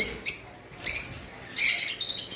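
Green Fischer's lovebirds kept as a pair at a bird sale give short, bright chirps in a few bursts, close by, with no talk over them.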